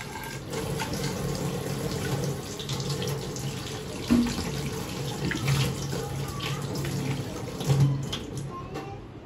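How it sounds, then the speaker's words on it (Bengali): Tap water runs steadily into a sink while a bottle is rinsed and filled, with splashing and a few louder knocks and thuds of the bottle against the basin, close by and continuous. "ওটা আজকে ভালো করে ধুয়ে ধুয়ে জল ভরে দেবো"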